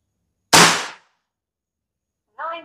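RTXX double plenum air rifle fires a single sharp, loud shot that decays over about half a second, followed after a pause by a brief faint metallic clink.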